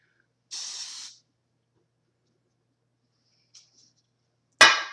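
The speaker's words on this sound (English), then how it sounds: "Take us a little bit of hairspray." Hairspray is sprayed onto a hair roller in short, close hissing bursts: one lasting about half a second, a tiny puff later, then a sharp final spritz, with silence between them.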